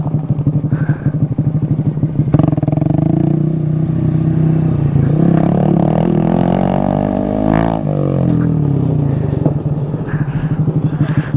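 A Honda Grom motorcycle ridden off-road over jumps, its small engine buzzing loud and close throughout with rising and falling revs and some clatter.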